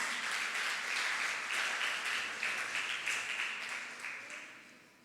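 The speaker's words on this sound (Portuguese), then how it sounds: "Cada vez que você pode aplaudir a Jesus." A church congregation applauding, sustained dense clapping from many hands that holds steady and then fades out toward the end, with no voices over it.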